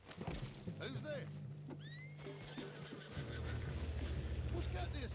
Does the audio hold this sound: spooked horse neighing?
yes